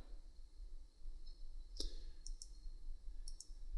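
A computer mouse clicks a few times on a quiet desktop, with one sharp click near the start followed by two small pairs of lighter clicks, all close and faint over a low hum.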